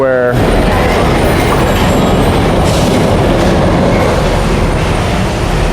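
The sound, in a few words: carts rolling past at busy place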